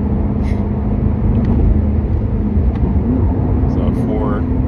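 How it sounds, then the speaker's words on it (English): A tuned BMW M5 F10 fills the cabin with a steady low engine drone, and a brief rising rev climbs near the end as a voice talks over it. "So 4, downshift to 3rd now. Sound just fills the cabin up."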